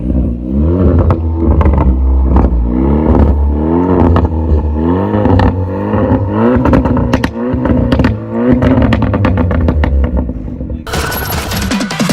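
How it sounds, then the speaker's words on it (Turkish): A modified Volkswagen Golf R conversion rated at 180 hp, its exhaust roaring loudly and close as the engine is revved again and again in rhythmic bursts, with sharp crackling pops scattered through the revs. "Egzozumuz açık mı şu an?"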